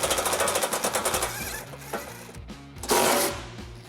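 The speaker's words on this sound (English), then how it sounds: "Using a 14mm socket, we'll remove a bolt, another bolt here, and lastly a nut on this side." A ratchet with a 14mm socket spins off the bumper beam bolts on a 2020 Subaru Forester, giving fast, close, steady clicking bursts with a brief pause and a louder final run.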